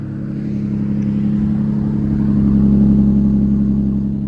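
A 2010 Ford Fusion Sport AWD engine rumbles loudly nearby through a Borla aftermarket exhaust with a deep note and an exhaust leak, swelling as it revs and then easing back.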